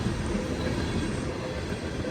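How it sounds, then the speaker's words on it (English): CSX M363 freight train passing close by, a loud continuous roar of rolling cars and wheels on rails, steady throughout with no voices. "our first train that we see is CSX M363"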